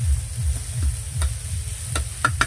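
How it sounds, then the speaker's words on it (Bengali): Ingredients for homemade chowmein frying in a pan, a steady sizzle with a few sharp ticks and taps of a utensil stirring, close and fairly loud with no talking. "একটু ভেজে নেবে"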